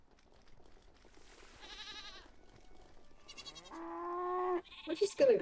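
Goats bleat in the Clanfolk farming game, several wavering calls one after another, close and clear, ending in a louder cluster of overlapping bleats.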